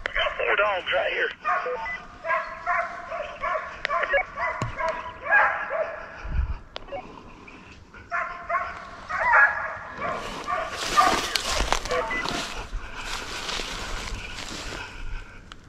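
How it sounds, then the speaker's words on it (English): Several hunting deer dogs bark and yip excitedly during a drive, some near and some farther off, mixed with radio-like chatter and occasional talking. "I got four dogs right here."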